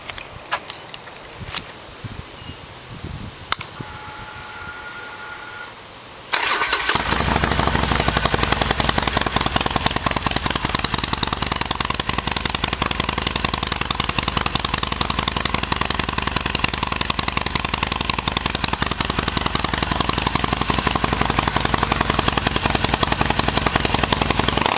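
A Harley-Davidson Nightster motorcycle engine starts after some faint handling noises, then settles into a loud, steady, rough idle with a continuous rumbling rhythm up close.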